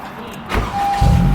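A Honda Civic with a clutch and push-button start cranks and catches, a short whir followed by the engine firing up into a loud, close, steady low rumble, with no talking.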